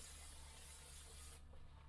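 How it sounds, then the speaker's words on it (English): Cooking spray hisses steadily into a casserole dish in a home kitchen, a close continuous spray lasting under a second and a half before cutting off, leaving a low background hum. "Make sure you spray it down good."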